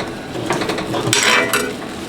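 A spoon stirs a wet rice mixture in a pot, making short scraping and sloshing strokes with a light metallic clink, close and fairly loud.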